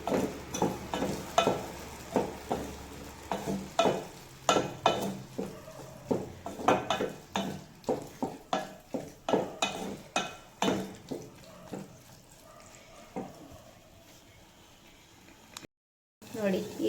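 Sago roasting in hot ghee while a spoon stirs it around a metal pan, producing rapid repeated scrapes and clinks over a low sizzle for most of the stretch, then quieter frying before a short silence.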